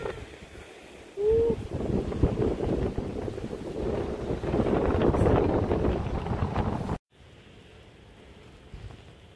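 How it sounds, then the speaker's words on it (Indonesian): Strong wind on a mountain at a high trail post buffets the microphone with loud, rough gusts and roaring for several seconds, cuts off abruptly, then returns as a weaker, steadier rush. "Cuma angin sangat kencang."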